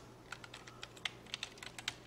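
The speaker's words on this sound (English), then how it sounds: "I'm intentionally typing in lowercase." Quiet, close typing on a computer keyboard while building a web page in Dreamweaver CS5: a series of light, separate key clicks at an uneven pace over a low steady hum, with no talking.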